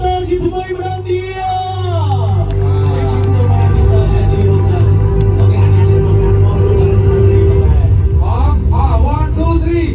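A large crowd at a football match in Sihanoukville roars and cheers steadily and loudly, a broad sustained swell of voices with a lead voice calling out over it.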